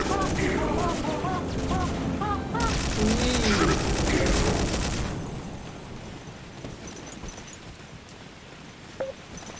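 Day of Defeat battle noise with dense gunfire and a heavy grenade-style blast roaring loud for several seconds, then fading to scattered distant shots, while someone speaks over the start.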